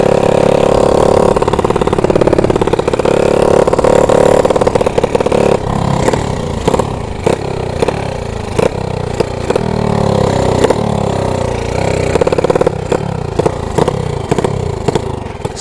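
A motorcycle with a leaking exhaust after sleep-engine tuning idles loudly, then revs in a rapid series of sharp blips with popping, rattling exhaust clatter, close and steady throughout with no talk.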